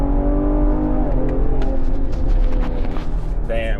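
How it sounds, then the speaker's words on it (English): A Ford Explorer ST engine revs hard through a third gear pull from about 2,500 to 6,000 RPM, a loud, steady drone with rising harmonics that fills the whole clip, close and continuous. "We're going to do a 3rd gear pull, because why not?"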